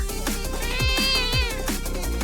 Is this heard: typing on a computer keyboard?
no